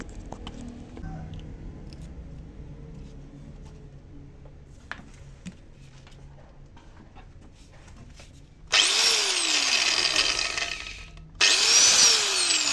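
An old angle grinder is switched on twice near the end, each time whining up loudly to speed after a stretch of faint background clatter and rustling.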